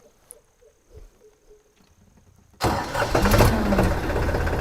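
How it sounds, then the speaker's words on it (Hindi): A tractor engine starts up in a quiet rural spot. Crickets chirp faintly at first, then the engine suddenly fires and settles into a loud, rough, steady running rumble close by. "ये हमारा ट्रैक्टर चालू हो गया।"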